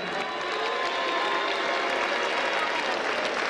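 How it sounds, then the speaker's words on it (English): A big boxing crowd in Liverpool applauds Tony Thompson after his win over David Price, a steady, dense wash of clapping with faint cheering throughout, moderately distant and unbroken. "Thompson getting a pretty sporting round of applause from the big crowd here in Liverpool"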